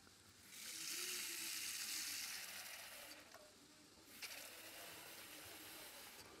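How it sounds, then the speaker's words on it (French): Water running from a kitchen tap in a restaurant kitchen, a loud hissing gush that swells, drops off and resumes at a steadier, softer flow, with a few clinks. "Nous avons ça au robinet."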